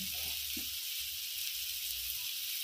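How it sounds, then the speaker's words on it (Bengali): Spiced masala with coriander powder sizzles and fries steadily in a pan for a mutton curry with potatoes, a constant close hiss with a few soft stirring scrapes early on. "আবারও মশলাটাকে ভালো করে কষিয়ে নেব।"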